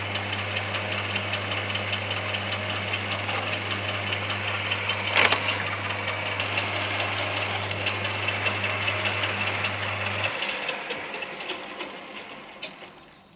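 A lathe turns a centering boss on the back of a clutch part, a steady machine hum running close and even for about ten seconds before the drive tone drops away, leaving fainter workshop noise.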